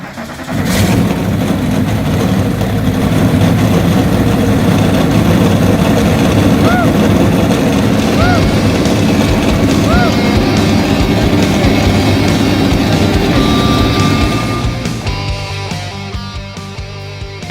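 Race car engines start and rev loudly together at the opening of a marble racing event, a thick sustained roar that swells over several seconds then fades at the end, with faint talk mixed in.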